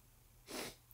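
A single short sneeze, close and fairly soft, a brief breathy burst lasting about a quarter second against a quiet room.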